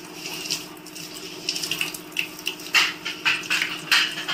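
Tap water runs while lemongrass is washed, a steady wash of flow with splashy bursts and sloshes that grow louder and more frequent toward the end, close by and with no talking.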